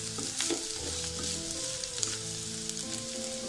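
Grated coconut frying in a pan for kappa puzhukku: a soft, steady sizzle with light stirring scrapes and crackles, close but quiet.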